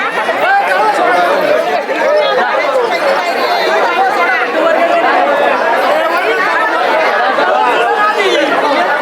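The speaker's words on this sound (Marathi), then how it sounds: "आज संडे त्यामध्ये अजूनच गर्दी जास्त वाटते" A dense crowd of visitors at the Jejuri temple on a busy Sunday produces continuous loud chatter from many overlapping voices, close and unbroken throughout.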